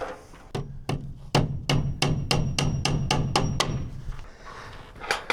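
A 13 ounce Bluegrass hammer drives fasteners into wood lap siding with about ten sharp, evenly spaced blows, loud and close, followed by a pause and a few more taps.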